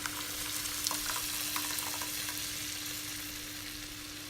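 Oil sizzles and crackles steadily in a pan as tempering fries for dal kulambu, with small pops scattered through the frying and a faint constant hum.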